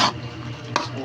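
Chicken and mushrooms stirred in a pan, a short close scrape at the start and another about halfway, over a faint sizzle.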